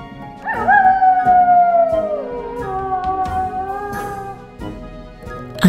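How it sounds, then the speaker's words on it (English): A red wolf howl sound effect for an animated picture book rises into a long, clear gliding howl, then a second lower, wavering howl follows over faint background music. "I see a red wolf sneaking by me."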